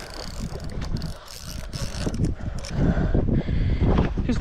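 A fishing reel on light bream gear being wound while fighting an Australian salmon, a close, continuous ratcheting whirr with wind buffeting the microphone outdoors.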